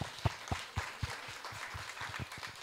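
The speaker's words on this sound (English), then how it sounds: "I want to give her another round of applause, please." Applause at a live expert panel for a new executive director, mostly a few close, distinct claps in a loose, steady beat over a thin background of wider clapping, fairly quiet and brief.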